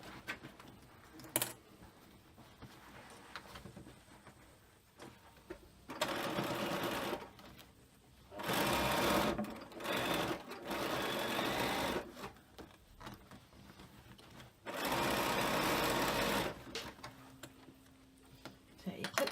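A sewing machine stitches a frame bag in several bursts of rapid, steady whirring lasting one to two seconds each, separated by quiet pauses with small handling clicks, and a voice speaks faintly at times.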